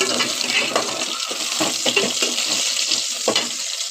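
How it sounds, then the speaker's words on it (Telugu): Okra pieces fry in a pan with tamarind, turmeric, salt and chili, a bright continuous sizzle with repeated stirring scrapes, fairly loud and close, no voices. "ఇప్పుడు బెండకాయలు బాగా ఫ్రై అయ్యింది"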